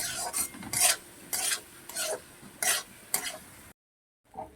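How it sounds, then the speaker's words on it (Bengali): Ginger, onion and garlic paste fries in a pan on medium heat, a scraping spoon stirring it in about eight quick strokes over the sizzle, then a short silence and one more faint stir. "ভালো করে পেস্টগুলোকে একসঙ্গে ভালো করে আরও ভাজতে হবে"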